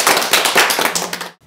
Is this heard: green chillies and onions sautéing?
no